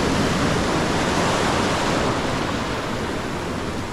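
Ocean surf at a jetty in Maracas, Trinidad, rushes as a steady, loud broadband wash of breaking waves, continuous and close with no voices.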